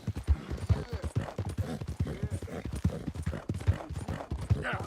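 Steady clip-clop of horse hooves in a quick, rhythmic gait, fairly close, with light background noise and no talking.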